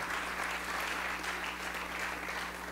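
Steady, dense applause from a large crowd at the 2018 LNBP basketball draft fills the whole stretch, loud and continuous with a low hum underneath.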